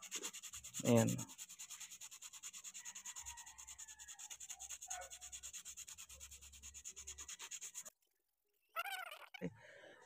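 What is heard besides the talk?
sanding clutch lining with sandpaper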